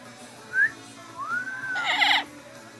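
A 70-year-old parrot gives a short rising whistle, then a longer sliding whistle that ends in a brighter, harsher burst of calling, close by and moderately loud against a quiet background.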